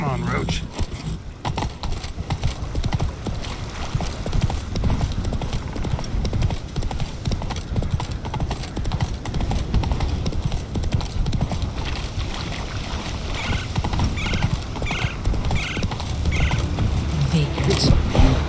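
Roach, a horse in The Witcher 3, gallops with rapid rhythmic hoofbeat clip-clops and jingling tack throughout, while game music and effects play underneath and a voice speaks briefly.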